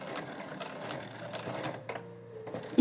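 A sewing machine stitches the side seam of a tucked pouch in a steady run of quick, even needle strokes, then pauses briefly before a small click near the end; no one speaks.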